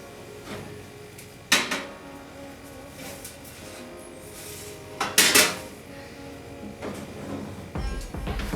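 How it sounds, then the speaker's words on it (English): A pan of bread going into a preheated oven, heard as a few sharp metallic clanks and scrapes of the tin and rack spaced across the clip, with quiet handling noise in between. "I want to now put in our bread into our already preheated oven"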